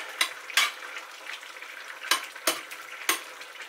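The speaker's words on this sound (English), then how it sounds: "I'm going to lower the heat a little bit so that it goes down to a fast simmer" Trini-style geera pork cooks in a pot at a fast simmer, a soft bubbling hiss punctuated by five or six sharp spoon clinks and scrapes against the pot, close with no talking.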